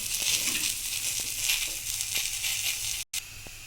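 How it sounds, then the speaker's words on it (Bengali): Fish curry in a pan hissing loudly as water goes in, a dense, close sizzle that holds steady and cuts out briefly near the end before resuming. "এবার এখানে পরিমাণ মতো জল দিয়ে দেবো"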